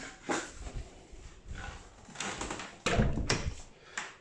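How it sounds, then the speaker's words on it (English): A smart lock on an apartment door, used for self check-in, unlocks and the door opens: a series of faint clicks, rattles and short mechanical sounds, quiet and close, with no talking. "You will hear a sound and the door opens."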